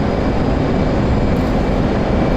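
An F/A-18 Hornet jet engine roars in afterburner in the DCS World flight simulator, a loud, dense and constant broadband rush that holds steady throughout with no talking over it.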